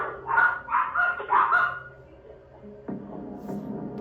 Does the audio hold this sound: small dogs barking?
yes